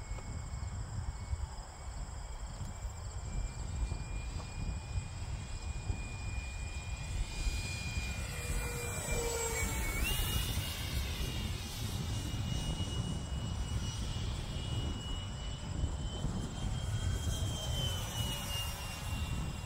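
A Freewing MiG-15 RC jet with a 64mm electric ducted fan flies in strong wind, giving a high turbine-like whine that rises as it passes near and fades, over constant wind rumble.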